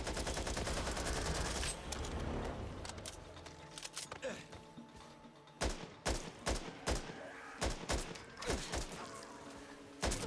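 Gunfire rattles in the zombie shooter Back 4 Blood, first a dense automatic burst and then sharp separate shots spaced irregularly, fairly faint in the mix.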